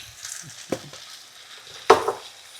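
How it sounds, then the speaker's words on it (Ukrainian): A spoon stirs a pumpkin dish seasoned with salt and Italian herbs in a frying pan, making two distinct scraping strokes over a faint sizzle, close and without talk. "Гарненько перемішую."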